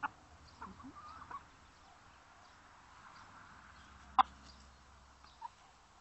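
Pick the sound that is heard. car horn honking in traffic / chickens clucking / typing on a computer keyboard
chickens clucking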